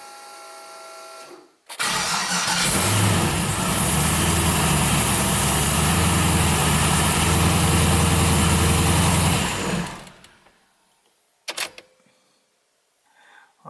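A vehicle engine fires up and runs loud and steady for about eight seconds, then shuts off abruptly, leaving a few faint clicks and clunks close by.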